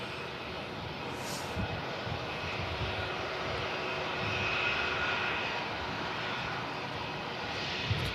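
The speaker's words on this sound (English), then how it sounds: "Got another Lufthansa on the way out as well." Lufthansa airliner jet engines roaring steadily as the aircraft departs an airport, a broad continuous rumble that swells slightly midway, heard from a distance outdoors with no talking.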